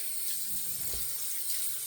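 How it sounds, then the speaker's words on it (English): Hot water runs steadily from a tap into a sink while the face is wetted before a shave, a continuous close hiss with no talking. "let's wet again our clean face with some hot water"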